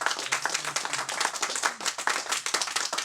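A small studio audience at a radio show applauds, with distinct, fairly quiet claps in an uneven, pulsing rhythm from a handful of people close by.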